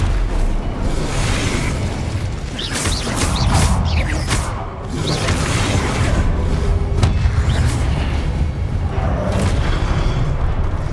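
Incendio fire spell cast during combat in Hogwarts Legacy, a burst of whooshing flame amid booming impacts and rumbling, loud and dense over a continuous battle din.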